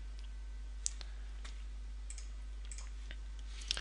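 Sharp, faint computer mouse clicks from someone setting up a website on a PC, a handful of isolated clicks spaced irregularly over a low steady hum.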